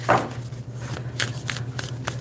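Oracle deck cards being shuffled by hand: a few quick papery riffles and soft slaps in separate bursts over a faint low hum, close and fairly quiet, with no talking.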